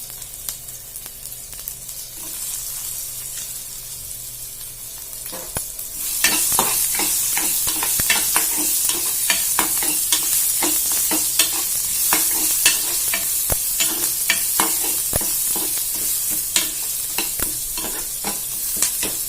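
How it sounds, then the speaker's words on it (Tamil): Onions sautéing in a pan for spicy green chilli chutney, a steady sizzle that grows louder partway through, with frequent scraping stirs of the spoon and no one speaking. "இந்த வெங்காயம் வதங்கியாச்சு"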